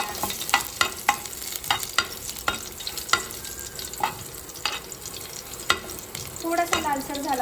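Crushed unpeeled garlic cloves stirred in hot oil with cumin and mustard seeds, giving a steady close sizzle with repeated sharp clinks and scrapes of a spoon against the pan, no voices.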